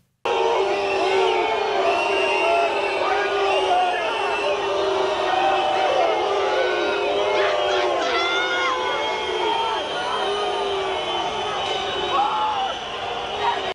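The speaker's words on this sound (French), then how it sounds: "les huées subies par Emmanuel Macron" A large crowd after a military parade, jeering and booing Emmanuel Macron, with shouts and whistles rising over a dense, continuous roar of many voices throughout.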